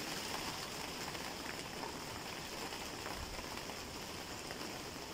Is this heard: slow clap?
no